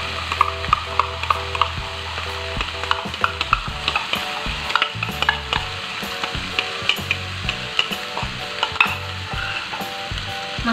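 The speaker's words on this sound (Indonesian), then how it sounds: "Lalu masukkan bumbu yang tadi sudah di blender." Blended spice paste sizzles loudly in a hot wok, with steady frying hiss and repeated scraping strokes of a spatula stirring it, close and continuous with no talking.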